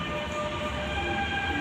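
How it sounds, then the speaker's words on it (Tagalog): Steady rumble and hum of an arriving train, with sustained tonal whine and low rail noise, continuous and fairly close. "kararating lang ng isang tren"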